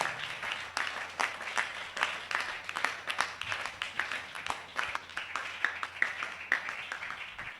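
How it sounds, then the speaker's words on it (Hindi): A congregation at a Hindi church gathering gives enthusiastic applause, a crowd clapping steadily in fairly regular pulses that rise and fall through the stretch, heard without speech. "हम जोरदार ताली से उनका स्वागत करें।"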